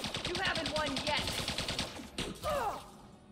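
Rapid bursts of ship weapons fire from the space combat game Elite Dangerous, a fast rattling volley that stutters, pauses, then fires again, with sweeping electronic tones layered over it.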